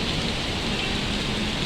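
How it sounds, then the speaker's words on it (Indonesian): Heavy rain pours steadily on arrival at Gambir station in Jakarta, a dense, loud, unbroken wash of drops on surfaces with no voices. "Sampai Gambir langsung disambut hujan."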